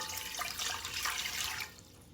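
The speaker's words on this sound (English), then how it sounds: "We're going to add in 2 cups of water." Two cups of water pour into a saucepan on a stove over high heat, a faint, short splashing stream that stops near the end.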